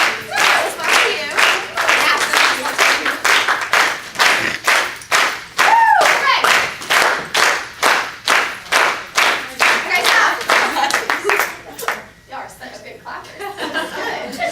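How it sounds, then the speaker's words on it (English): A group claps in a steady rhythm during a sales training session, with a brief speedup near the end. A voice talks loudly over the claps. "Keep clapping."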